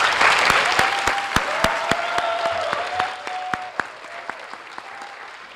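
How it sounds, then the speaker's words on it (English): Audience applause for a graduating class of 2023 at a high school senior awards night, steady dense clapping with sharp individual claps standing out, tapering slightly toward the end. "Let's give them an opening round of applause."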